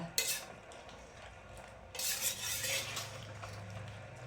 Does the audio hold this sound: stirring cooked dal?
yes